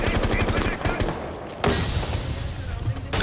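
Automatic gunfire crackles in rapid bursts during a competitive Rainbow Six Siege match, with dense overlapping shots, a brief lull, then a sharp burst followed by continued firing under a busy mix.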